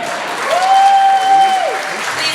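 An audience at a candidates forum hosted at a Catholic church applauds in a steady wash of clapping while a single sustained tone sounds over it, close and fairly loud.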